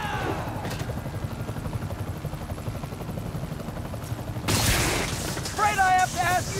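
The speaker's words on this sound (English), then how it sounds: "Disable the helicopter's engines." A helicopter engine in a Spider-Man video game drones steadily under background sounds, then a louder burst of noise and whining mechanical tones break in near the end.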